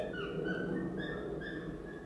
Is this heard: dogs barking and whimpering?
yes